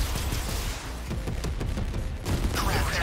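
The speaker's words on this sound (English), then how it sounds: "Long-range missiles. Target confirmed." Rapid volleys of long-range missile fire from the mecha battle game 13 Sentinels: Aegis Rim, dense continuous booms and blasts layered with game sound effects, loud throughout with a heavier burst near the end.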